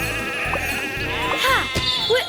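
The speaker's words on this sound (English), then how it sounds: "Sheep have wandered onto the tracks." Sheep bleat on railway tracks in a Thomas and Friends cartoon, several wavering calls close by over a steady background score of music and engine hum.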